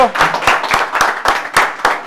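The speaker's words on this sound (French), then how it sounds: "Félicitations, on peut s'applaudir." Football players in a gymnasium clap together in loose, fairly even beats, roughly four per second, with brief voices mixed in among the claps.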